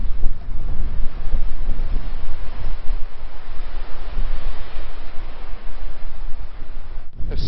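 Strong wind gusts across an overcast seaside cove at Sand Point, buffeting the microphone in a loud, steady roar with surf rumbling beneath, and a brief bump near the end.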